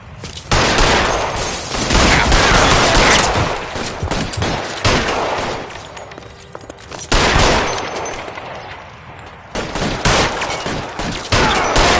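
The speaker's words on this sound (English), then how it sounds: "Open fire!" A chaotic shootout in the video game LA Noire erupts in dense bursts of gunfire, rapid overlapping shots and automatic volleys pounding loudly in waves with short lulls between.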